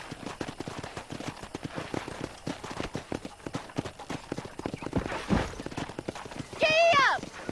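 Horse hooves clip-clop at a steady galloping rhythm in the Red Dead Redemption video game, close and continuous. A horse whinnies briefly near the end.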